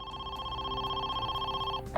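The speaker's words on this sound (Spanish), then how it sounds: "el teléfono volvió a sonar." A telephone rings with a steady electronic tone that cuts off near the end, followed by a brief soft knock, heard fairly clear against a low background hum.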